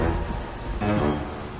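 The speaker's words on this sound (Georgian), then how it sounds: "წვიმაც იწყება." Cartoon rain beginning to fall at a camping spot where a tent is being pitched, a steady hiss of drops on surfaces that swells noticeably partway through, loud and close, with no voices.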